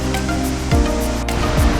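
Waterfall across from a pontoon, heard as a steady, loud rush of falling water that fills the whole stretch, with a couple of low thuds and no voices, after days of heavy rain and wind.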